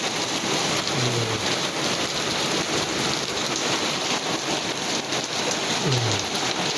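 Hail and icy rain in Riyadh beat down hard and continuously, a dense loud hiss of pellets striking surfaces with no break and no voices.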